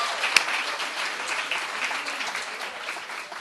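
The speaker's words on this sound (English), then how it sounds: "Another round of applause." Audience applause at a live student awards show, a dense steady wash of clapping heard alone for a few seconds, moderately loud and slowly tapering.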